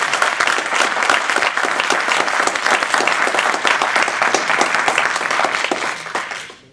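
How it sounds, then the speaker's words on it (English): Sustained audience applause at an evening speech contest, a dense, steady round of clapping from a full room that carries on for several seconds before fading at the end. "let's give them one more round of applause for the great job"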